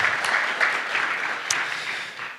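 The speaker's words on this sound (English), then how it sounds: "yes, round of applause." Audience applause at a Nordic security technology conference, a steady wash of clapping from a hall crowd lasting the whole stretch, moderately loud with a faint voice surfacing briefly.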